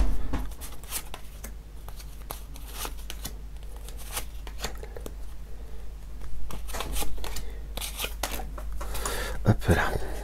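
Tarot cards being shuffled and drawn on a table during a reading, a soft continuous papery riffling and sliding with scattered clicks of cards laid down, close and fairly quiet, with a voice speaking intermittently.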